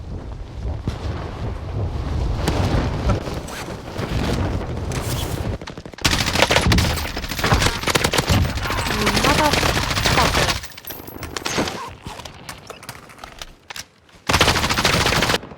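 Video game gunfire comes in loud, rapid automatic bursts with short pauses, close and harsh, while a player talks quietly over the shooting.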